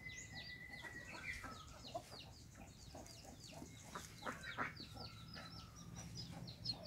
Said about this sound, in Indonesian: burung pipit sepasang burung pipit mantap